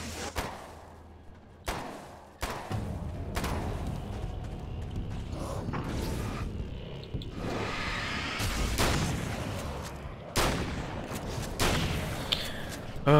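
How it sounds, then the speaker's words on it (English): SMG gunfire in the video game Alan Wake's American Nightmare comes as sharp, loud bursts and single shots scattered across the stretch, mixed with mechanical clanks and rumbling game noise, with no talking. "Why is there an SMG in Alan Wake?"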